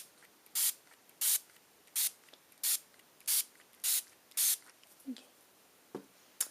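A pump spray bottle of Glimmer Mist fires seven quick, crisp hissing spritzes in a steady rhythm, close and clear, followed by a couple of soft handling clicks and bumps.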